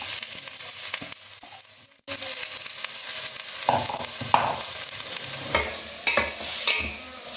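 Grated bottle gourd sautéed in ghee for lauki halwa sizzles steadily in the pan, with intermittent scraping stirs and clattering spoon strokes, close and fairly quiet, no talking.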